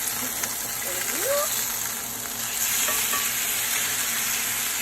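Meat sears in a pan over high heat, a dense, loud, continuous sizzle close by with a few brief scraping movements and a faint voice in the background.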